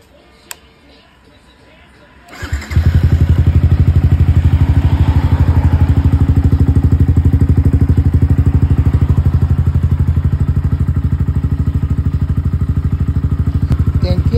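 A keyless-ignition motorcycle, serviced with an oil and filter change, starts after a quiet moment and settles into a loud, close, steady idle with a rapid pulsing beat.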